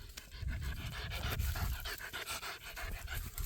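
A dog panting steadily and close by in rapid, rhythmic breaths, with no talk over it.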